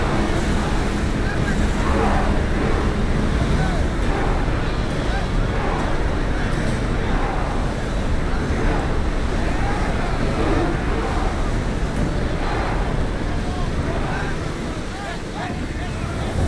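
Wind and rushing water around a sailing ship at sea in the video game Assassin's Creed Odyssey, a loud, constant roar of gusts and waves against the hull, with voices talking over it.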